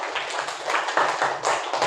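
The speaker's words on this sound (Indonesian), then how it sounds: "Oke, tepuk tangan buat kelompok 3." Short burst of classroom applause for a student group: a cluster of hands clapping in quick, uneven rhythm, close and moderately loud, with no talking.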